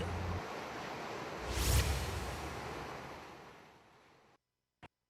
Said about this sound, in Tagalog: kapansin-pansing malakas ang ragasan ng tubig na bumababa sa ilang bahagi ng bundok